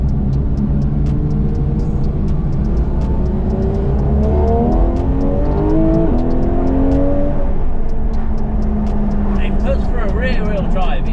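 Porsche 911 GT3 RS Weissach, rear-wheel drive with 520 horsepower, drones steadily from inside while driving, its engine note rising and sweeping through gears, with people talking over it throughout.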